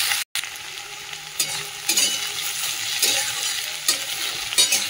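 Onions and potatoes fry in a pan with a steady, close sizzle, broken by occasional scraping stirs and one brief dropout, with no talking.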